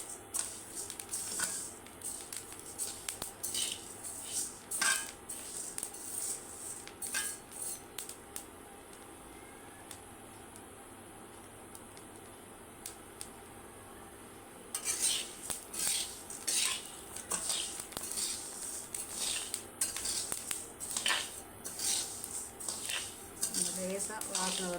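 Dry health-mix flour ingredients roasted in a pan, marked by intermittent metal scrapes and clinks of a utensil against the pan, which pause for a few seconds before resuming in quick bursts.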